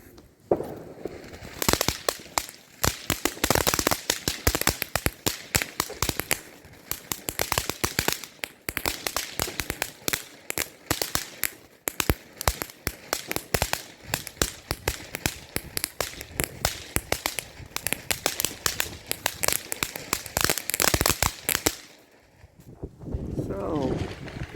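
A Wolf Big Family Pack of consumer fireworks goes off in a long rapid barrage of loud crackling bangs and pops for about twenty seconds, then stops, with a voice talking over it.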